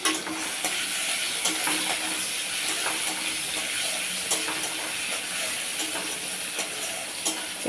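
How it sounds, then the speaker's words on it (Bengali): Bay leaf, onion, cinnamon and cardamom fry in hot oil in a wok, giving a steady, close sizzle with occasional crackles and pops, no talking. "এখন কড়াইয়ের মধ্যে তেল দিলাম, তেল দিয়া তেজপাতা, পেঁয়াজ, দারচিনি, এলাচি সব কিছু দিয়া"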